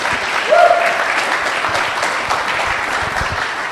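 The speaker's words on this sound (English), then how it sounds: "let's give them a round of applause, please" Sustained audience applause at a live discussion event on the existence of God, a dense, steady crowd clapping throughout with a brief vocal cheer or whoop near the start.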